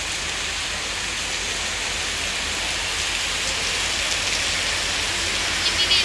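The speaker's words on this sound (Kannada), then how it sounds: "ನೋಡಿ ಎಷ್ಟು ಜೋರು ಮಳೆ ಬರ್ತಾ ಇದೆ" Heavy rain pours down in a dense, steady roar, unbroken throughout with no voices.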